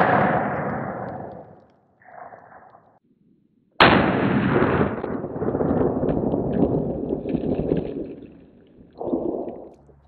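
Loud, close rifle shots strike a ceramic and polyethylene body armor plate outdoors, each a sharp blast with a long ringing decay, heard as two main reports and a quieter later one.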